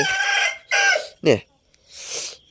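Chickens and chicks being taken down from a nest give a few loud, close squawks and clucks in short separate bursts, one sharp cry in the middle, with pauses between.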